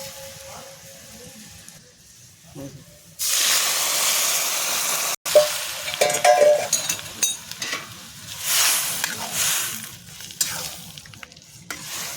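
A tempering of garlic and black cumin (kalo jeera) hits a pan of dal with lauk shak, bursting into a loud steady sizzle that rises and falls as it's stirred, briefly cut off midway.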